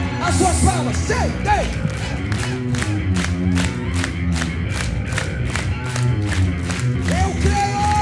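A church congregation claps in a fast, steady rhythm during a worship service, many hands striking in unison under loud shouting, cheering voices and music.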